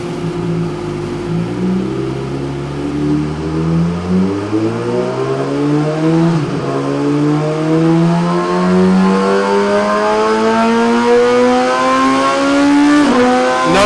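A 2017 Suzuki GSX-R1000 motorcycle, fitted with a flashed ECU running a pump-gas map, pulls hard on a ride, its loud engine note climbing steadily in pitch through the gears with brief dips at shifts.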